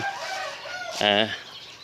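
Chickens on a Thai farm kept alongside ducks, with one loud, close bird giving a short rising cackling call partway through over a low background murmur of other fowl.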